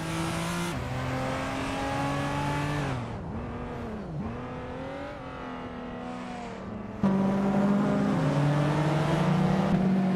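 Racing-game engines at speed, led by a 1995 Ford Escort RS Cosworth, roar steadily with rising and falling pitch. A second engine note dips and recovers midway, then a louder, higher-revving car takes over near the end. No talk.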